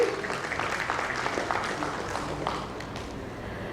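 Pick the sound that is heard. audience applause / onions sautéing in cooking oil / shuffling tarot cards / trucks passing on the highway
audience applause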